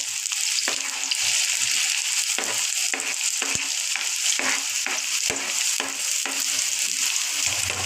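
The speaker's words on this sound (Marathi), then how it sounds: "तेल गरम झालंय, कांदा फ्राय करायला टाकूया।" Onion frying in hot oil for veg momos filling, with a loud, steady sizzle throughout, broken by frequent spoon scrapes and knocks against the pan; no voices.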